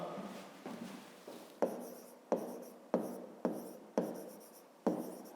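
Pen strokes on paper during a grade 5 maths exercise on volume, a series of short close scratching bursts in an irregular rhythm, each starting sharply and fading, with no talk over them.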